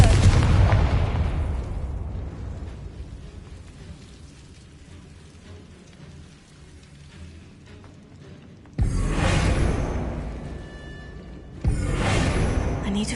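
A Confringo blasting spell detonates in Hogwarts Legacy, a loud booming burst with a long rumbling decay that fades away, followed by two more sharp, bright blasts near the end.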